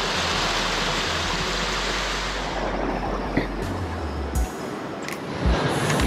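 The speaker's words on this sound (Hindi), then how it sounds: "घाटी में से" Water flowing down from a valley on the Valley of Flowers trek pours steadily, loud and close, with a faint low engine hum underneath and a few soft knocks near the end.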